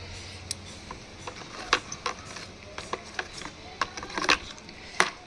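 A urea and potash fertilizer mixture is stirred in a container, producing scattered clicks, knocks and scraping taps at an uneven rhythm over a quiet background.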